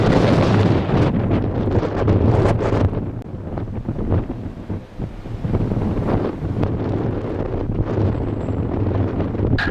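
Strong wind buffets the microphone at Madeira Airport, a loud, continuous roar with gusty surges that ease briefly mid-way before building again, with no voices present.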